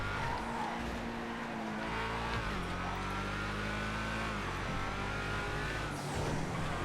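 Race car engine in GTA FiveM holds a loud, steady drone for the whole stretch, its pitch stepping up and down through gear changes, with faint tire squeal mixed in; no voices.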